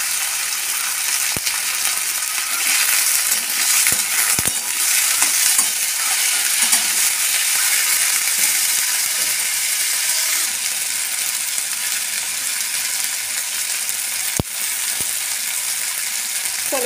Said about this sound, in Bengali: আর চলো মুড়ি খাওয়ার জন্য ভাজবো আলু